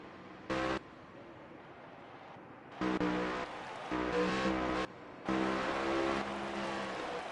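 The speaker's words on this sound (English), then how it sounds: "Try to get our engine noise back on there." A race car engine in a sim racing game at Charlotte Roval roars in loud, sustained bursts, revving up and cutting off between gear changes, with a brief short blast near the start.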